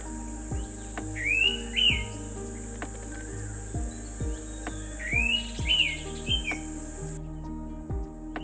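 An orange-headed thrush mimics the well-known call of an Indian Pitta, giving two clear whistled phrases a few seconds apart over a steady chorus of crickets and insects in the background.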